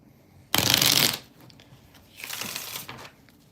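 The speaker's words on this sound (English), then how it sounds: "let me shuffle this one more time" Two bursts of tarot cards being shuffled by hand, a loud crisp riffling rush first, then a softer, longer shuffle, close up in a quiet room.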